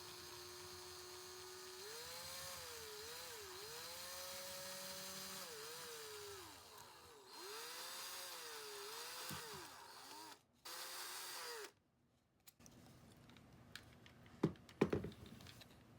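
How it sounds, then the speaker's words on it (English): Power drill with a 3/16 drill bit enlarging holes for LEDs, a whining motor that rises and dips under load in several runs, pausing, then ending in small clicks and knocks. "use that 3/16 drill bit to make the holes larger"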